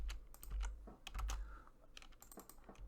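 Computer keyboard being typed on at close range, a quick irregular run of crisp key clicks and clacks over a faint low hum, with no voices.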